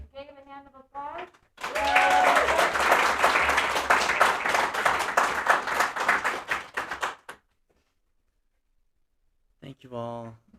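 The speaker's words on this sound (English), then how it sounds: "let's give Gabe a hand of applause" Applause from an audience at an art talk for Gabe Seevak, a dense burst of clapping lasting several seconds, framed by a speaker's voice before and after.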